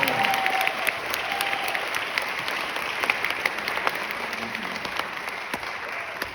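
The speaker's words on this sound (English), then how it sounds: "Let's have a nice round of applause for them." An audience at a spring jazz concert at a Las Vegas school applauds the student big band, with steady dense clapping and scattered sharper individual claps throughout.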